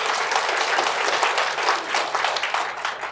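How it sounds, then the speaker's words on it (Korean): A church congregation at a Korean worship service claps together in sustained, lively applause, a dense and even wash of many hands from a crowd. "영광의 박수 올려드리도록 하겠습니다"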